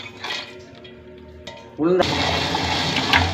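Water is poured a little at a time into a wet grinder holding soaked urad dal. Quiet rustling comes first, then a brief pour and a steady, louder churning wash of water and batter.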